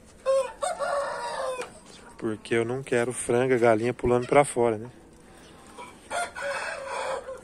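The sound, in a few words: roosters crowing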